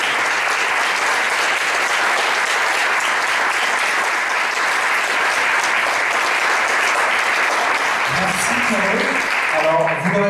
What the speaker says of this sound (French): c'est juste de les applaudir, ils sont là au premier rang.